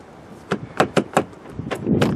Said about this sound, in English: you then put your key in, and then you turn it